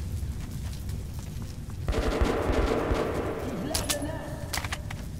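Gunfire crackles in the video game Metro: Last Light Redux, bursts of shots over a rumbling backdrop, growing busier midway with sharp reports near the end.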